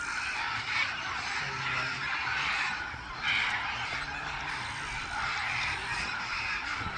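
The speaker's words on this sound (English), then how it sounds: "Blue and yellow macaws" Blue and yellow macaws call in the Amazon rainforest, with harsh, raucous squawks repeating over a dense, steady backdrop of other birds and forest noise.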